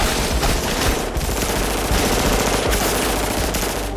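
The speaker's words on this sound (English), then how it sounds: "Both enter the building where they have Morpheus and open fire on the guards." Dense, continuous automatic gunfire rattles without pause through a film shootout as guards are fired upon in a building lobby, loud and saturated with overlapping shots.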